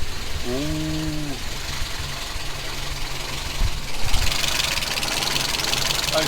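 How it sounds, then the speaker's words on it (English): A Chevrolet Nova engine idles steadily with noisy tappets, giving a continuous close mechanical rumble and a brief louder surge partway through, with some background noise. "Those tappets are very noisy."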